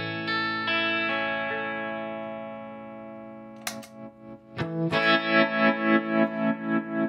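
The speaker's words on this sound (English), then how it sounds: "So this is what the old clean tone sounds like." Clean electric guitar run through a Pigtronix Tremvelope pedal: sustained chords ring steadily, then after a few sharp pick attacks the tone swells and pulses in a fast, even tremolo rhythm, close and loud with no talking.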